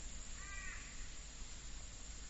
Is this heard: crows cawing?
yes